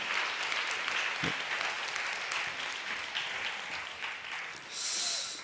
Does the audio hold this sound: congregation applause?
yes